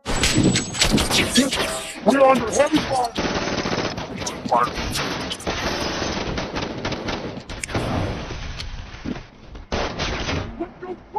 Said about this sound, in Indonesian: Baku tembak di antara mereka pun tidak bisa dihindarkan lagi